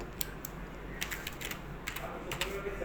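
Client names being typed into an Excel sheet on a computer keyboard, faint clusters of quick key clicks in short bursts with pauses between, no voice.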